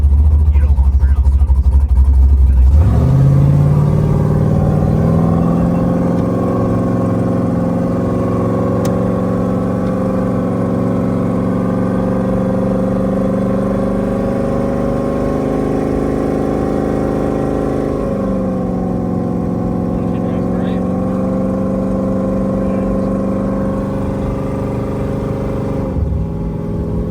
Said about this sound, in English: I think you should do a burnout.